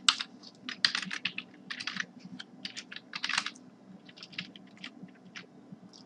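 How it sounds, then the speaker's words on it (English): Close, quick bursts of typing on a computer keyboard as PHP web-service code is entered, irregular runs of key clicks with short pauses and no speech. "So we got to type in some code over here."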